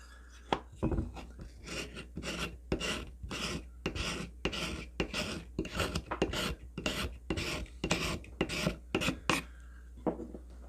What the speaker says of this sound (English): Scraping that. Fat wood.